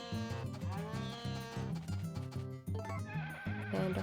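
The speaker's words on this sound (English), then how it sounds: "And a horsey." A horse neighs in the farming video game Harvest Moon: A Wonderful Life, a short whinny rising over steady, looping background game music, with no talking.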